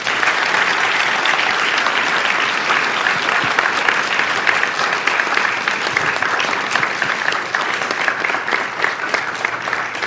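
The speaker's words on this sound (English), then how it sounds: "for Hans Taplin, for Trey Green, please give them a round of applause." At a Scottish Rite for Children launch event in Dallas, a large audience delivers a dense, continuous round of applause, loud and unbroken for ten seconds.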